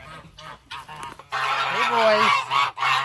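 Geese honk loudly and repeatedly in a backyard, a harsh rising and falling chorus close by, with a person briefly greeting them over the noise.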